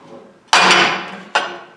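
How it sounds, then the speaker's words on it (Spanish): A hammer blow shatters a ceramic object with a sharp crack, followed by a second strike and more breaking; two loud, bright impacts about a second apart, close, with no talk. "No aguantó un simple martillazo, o sea, le pegué y se rompió."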